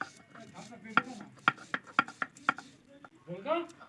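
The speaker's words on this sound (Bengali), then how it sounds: "আমি শিলনোড়ায় বাটছি" Almonds are ground by hand on a stone grinding slab (shil-nora) for almond payesh, with a series of close, sharp stone knocks and scrapes in an uneven rhythm, followed by a short stretch of talking.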